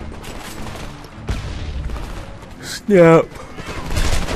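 Gunfire in the video game Homefront, rapid bursts of shots under and between excited talk, with a loud sharp burst near the end.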